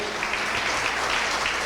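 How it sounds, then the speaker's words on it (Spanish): A church congregation applauds during a Spanish-language service, a brief, dense, steady wash of many hands clapping at moderate distance with no speech over it. "Den un aplauso fuerte al Señor"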